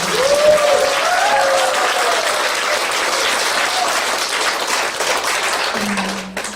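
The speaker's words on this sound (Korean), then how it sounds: "큰 박수 한번 보내주세요" An audience at a small gathering gives sustained, dense applause for invited guests, steady and fairly loud throughout, with a faint tone near the end.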